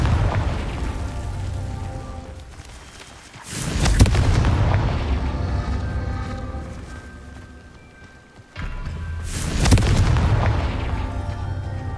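In Hogwarts Legacy, the Confringo fire spell explodes in two deep, booming blasts a few seconds apart, each trailing off into a long rumbling tail.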